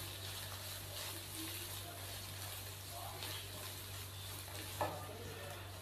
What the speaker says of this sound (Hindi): अच्छे से मिक्स कर देंगे सब मसालों को